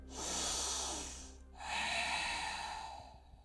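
Two slow, deep breaths during a yoga exercise, a long airy inhale then another, close and audible with a short pause between them and no talking.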